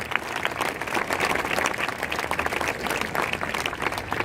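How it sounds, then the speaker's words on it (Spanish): A congregation at a charismatic church assembly claps steadily and vigorously, a dense continuous round of applause with a faint crowd murmur beneath it. "Dele fuerte ese aplauso al Señor"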